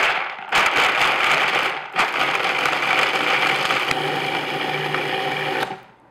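A food processor pulses hazelnuts to chop them finely, a loud steady whirring and rattling in several bursts separated by brief pauses, ending as the motor stops.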